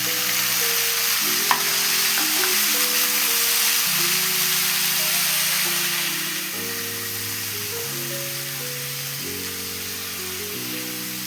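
Tomatoes for Andhra-style kara chutney sizzle in a hot pan, a steady close frying hiss under soft background music.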